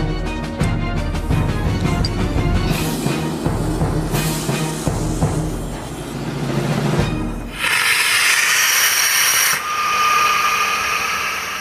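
Aircraft evacuation slide bag inflating from rocket gas boosted with compressed gas, a loud sustained mechanical roar and hiss that shifts abruptly to a brighter, harsher rushing partway through, with no talking.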